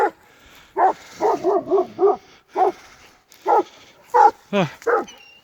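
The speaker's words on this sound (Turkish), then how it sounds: "Aşağıda üç tane köpek." Several dogs, including a Kangal puppy, bark in a quick, uneven series of sharp barks and yips, close by, with brief pauses between bursts.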